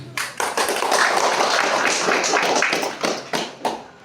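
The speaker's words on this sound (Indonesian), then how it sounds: "Mari kita memberikan aplaus." Audience members clap for a candidate at a student association leadership debate, a brief burst of crowd applause with dense overlapping hand claps that thins into a few scattered claps at the end.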